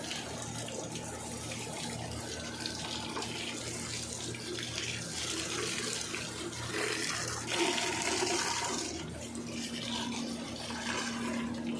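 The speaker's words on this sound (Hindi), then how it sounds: "पौधों को पानी लगाया जा रहा है।" Water runs steadily while plants are watered, a continuous splashing gush with shifting intensity and no talking.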